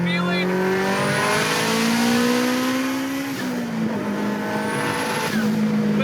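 A 500 hp all-wheel-drive Acura Integra, a light 90s Honda, accelerating hard, its engine note climbing through the revs in rising tones, dipping briefly at a shift and building again, loud and sustained under a person speaking.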